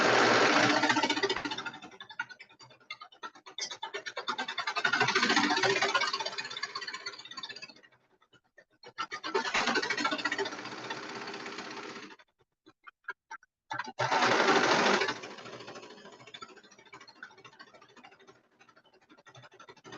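A home sewing machine stitches a color block hoodie seam in three bursts of steady mechanical whirring, each a few seconds long, with short pauses between runs.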